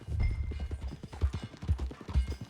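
Horse hooves clip-clop at an unhurried walking rhythm in Red Dead Redemption 2, each strike close and solid, repeating evenly across the clip with no one speaking.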